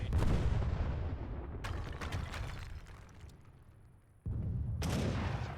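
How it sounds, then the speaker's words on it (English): Hand mortars firing in Age of Empires III during a siege, heavy booming volleys with decaying rumble, two distinct loud impacts separated by a quieter stretch of battle noise. "There's 7 hand mortars for the siege damage."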